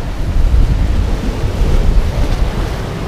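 Ocean waves breaking on a rocky Hawaiian shoreline, a loud steady low rumble of surf with wind buffeting the microphone, with no voices.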